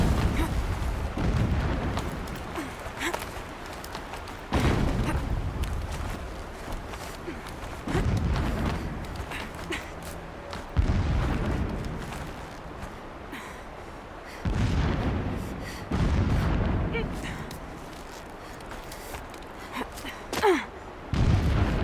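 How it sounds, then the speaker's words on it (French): Deep, rumbling explosions in the game Horizon Zero Dawn roll in at intervals, several heavy blasts spaced a few seconds apart, muffled as if from a distance, with faint activity between them. "Des explosions au loin."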